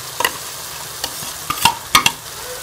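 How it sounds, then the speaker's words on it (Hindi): Chicken and spices for Irani chicken karahi sizzle in a pan, with a few sharp scraping stirs across a steady frying hiss. "मसाले डाल के हम इसको भून लेंगे।"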